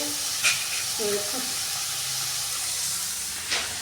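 Onions fry and sizzle steadily in a pan while being browned for a dry arbi (taro root) curry, a continuous hiss with occasional stirring clatters.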